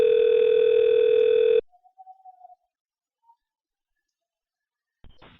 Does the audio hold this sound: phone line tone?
yes